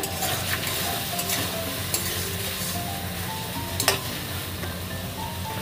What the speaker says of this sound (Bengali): এবার আমি এতে দেবো সর্ষে পোস্ত বাটাটা। আবারও খানিকক্ষণ কষিয়ে নেব।